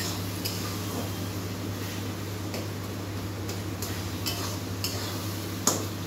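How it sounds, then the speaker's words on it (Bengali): Onion, ginger, garlic and tomato fry in a wok on the stove, stirred with a metal spatula: a steady low hiss runs throughout, broken by sharp scrapes and clinks of the spatula against the pan. "তো পেঁয়াজ, আদা, রসুন, টমেটো এটা ভালো করে ভেজে নিচ্ছে।"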